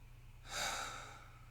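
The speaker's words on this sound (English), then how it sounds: "Breathe with me. Exhale it out." A single slow, breathy exhale during a guided breathing exercise, soft and close, rising and then fading over about a second against a quiet background hum.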